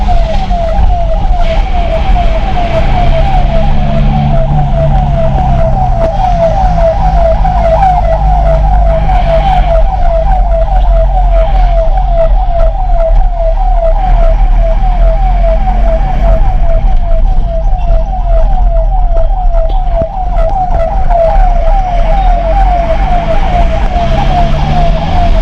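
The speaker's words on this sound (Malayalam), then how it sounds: "ആംബുലൻസിൻ്റെ സൗണ്ട് സെറ്റിങ്സ് ഒക്കെ ചെയ്തും സൗണ്ട് ഇടുന്നുണ്ട്." Ambulance siren wailing steadily in a repeating rise-and-fall pattern throughout, moderately near, over a constant low rumble of surrounding road traffic, with no talking.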